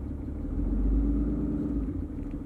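A deep, rumbling Cummins diesel truck engine with a dumped exhaust idles and revs up close by, its low throaty exhaust growling steadily with no one speaking.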